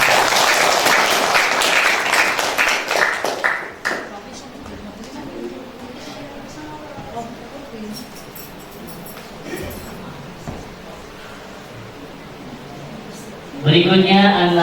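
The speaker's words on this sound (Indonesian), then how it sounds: "Jadi aplaus untuk Ananda Erin." Audience applause for a student at a Quran recitation exam at a TPQ learning center, a loud burst of clapping for about four seconds that fades into room murmur and scattered talk, with a voice returning at the end.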